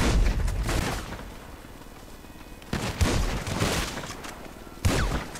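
Rapid bursts of gunfire in Grand Theft Auto V Online, loud clustered shots and booms coming in waves, with no voices over them.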